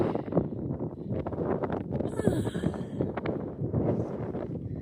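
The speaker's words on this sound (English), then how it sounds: "It's been quite windy today." Steady, gusty wind buffeting a microphone on a hiking trail near Carson Pass on the Pacific Crest Trail, a continuous rough roar with brief rises, heard up close with no talking.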